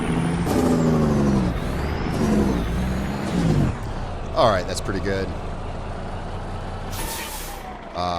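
A heavy truck engine rumbles and slows while pulling over in American Truck Simulator, then an air brake releases a sharp hiss, with someone talking over the engine noise.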